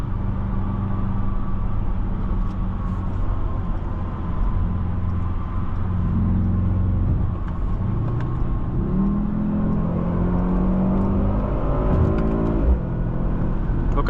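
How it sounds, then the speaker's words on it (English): A 2024 Mercedes-AMG GLS 63 SUV downshifting and accelerating in traffic, heard from inside the cabin as a steady engine drone that climbs in pitch through rising revs, with a gear change and renewed surge near the end. "It's just fun downshifting and just accelerating"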